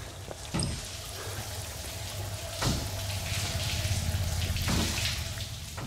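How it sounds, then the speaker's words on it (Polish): Shower water running in a derelict building in the video game Outlast 2, a steady pouring hiss with faint drips and a few soft knocks, continuous and moderately close throughout. "ktoś bierze prysznic ogólnie, słyszę."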